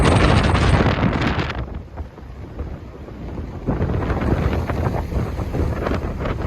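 A strong windstorm gusts across English Bay in Vancouver, battering the microphone with loud, rumbling blasts that ease briefly and then surge back, with waves driven over the seawall.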